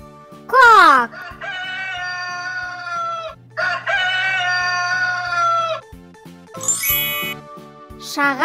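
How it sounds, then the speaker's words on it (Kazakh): A rooster crows in long, drawn-out calls, loud and close, broken by brief pauses, with bright chime-like tinkles between them. "петух,"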